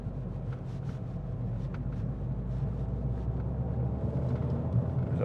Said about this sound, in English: yeah, car coming.